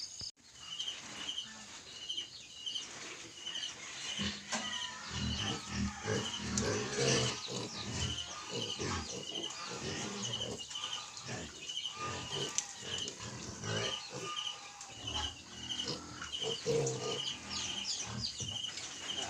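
Native piglets of a farm sow called Buri grunt and squeal in short bursts in a pen, with birds and insects chirping steadily in the background.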